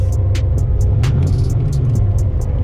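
Car running an old rusty turbo while on the move, a loud, steady, low engine drone with a row of evenly spaced short clicks or ticks layered on top.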